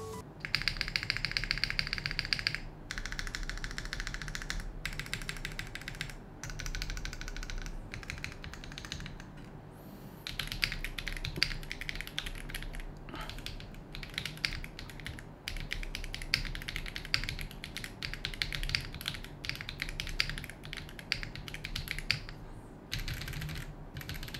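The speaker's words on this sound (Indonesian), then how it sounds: "Untuk suaranya kita coba bahas aja, nanti kalian bisa kasih pendapat kalian bagaimana suara dari keyboard satu ini." Steady typing on a Noir Gear Spade65 mechanical keyboard, a dense run of close, crisp key clacks with brief pauses, heard alone with no talk.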